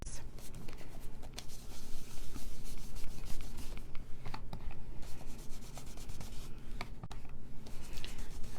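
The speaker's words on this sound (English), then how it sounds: "And then we're going to sponge this other piece." Ink sponged onto a paper piece for a shabby chic card, a close, continuous rough rubbing and dabbing with quick repeated strokes, no talking.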